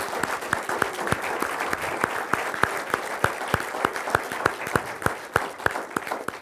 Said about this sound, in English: a big round of applause for all of our honored guests